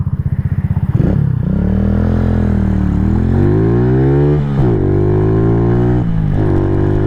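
KP Mini 150 small motorcycle with a newly installed muffler, ridden on the road: a close, buzzing engine note rising and falling through several revs and gear changes, with no voices.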